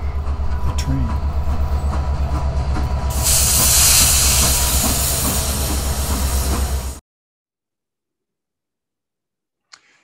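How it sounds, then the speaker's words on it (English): A train rumbles past close by for about seven seconds, a steady rhythmic clatter of wheels with a brief hissing surge in the middle, then cuts off to silence. "Shh, the train."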